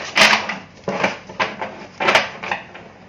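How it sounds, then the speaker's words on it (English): Aquarian Tarot card deck being shuffled by hand, several quick riffling bursts close up in an uneven rhythm, with no talk. "Okay, one more shuffle."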